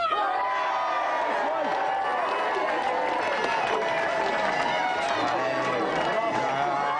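A studio audience at a televised video-game show's Christmas special cheers and applauds loudly and continuously, a roaring mass of claps, whoops and voices with no pause.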